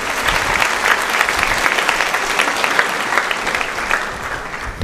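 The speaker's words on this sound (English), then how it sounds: "a round of applause." A high school audience at an instrumental music spring concert applauds steadily for a student performer, a dense, even wash of many hands clapping close by for about five seconds with no talking.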